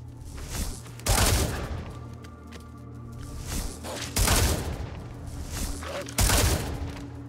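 A chain lightning spell is cast in an Elder Scrolls game, with three loud crackling electric bursts, each followed by a sustained buzzing rumble that fades, over a low droning ambience.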